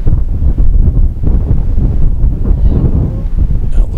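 Wind buffets an outdoor microphone on a disc golf course beside woods, a steady low rumble with gusty surges running loud and continuous for the whole span, no talking heard.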